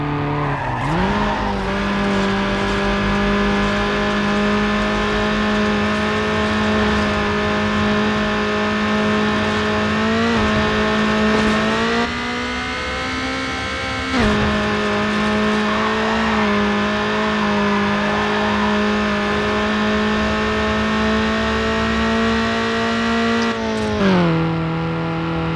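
A performance-tuned racing car in Need For Speed Underground on PS2 holds a loud, sustained engine drone with steady harmonics, shifting pitch as it changes gear, with occasional tyre squeal mixed in.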